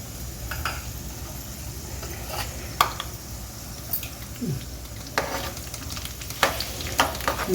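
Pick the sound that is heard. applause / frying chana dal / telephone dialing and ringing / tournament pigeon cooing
frying chana dal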